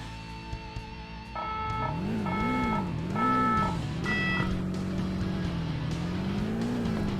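A Toyota Supra race car in the Need for Speed video game, its engine droning and rising and falling in pitch as it accelerates and shifts, steady and loud, with chime-like game tones sounding over it early on.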